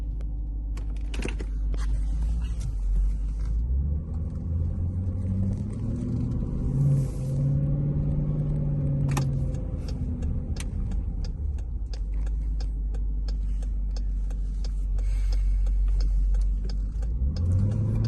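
A 2021 Dodge Durango R/T on a 93-octane tune drives along, its engine humming as a steady low rumble with gentle rises in revs, plus scattered cabin clicks and ticks and no talking.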